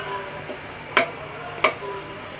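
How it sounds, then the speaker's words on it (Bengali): A spoon stirs an amra (hog plum) chutney mixture in a pot, giving two light, sharp taps against the pot over a faint steady hiss. "এখন আমি এগুলোকে একটু ভালো করে নেড়ে চেড়ে দেব।"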